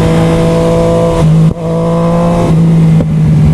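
Motorcycle with a loud exhaust pipe on a country road, a steady close droning engine note that dips briefly between gear changes, loud throughout.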